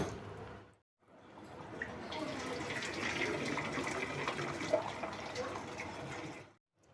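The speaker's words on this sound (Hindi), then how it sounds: "अब ये यखनी बनकर तैयार है। अब इसको छान लेंगे।" Chicken yakhni stock is strained, pouring in a steady liquid splash and trickle after a short pause, fairly faint and continuous until it stops abruptly.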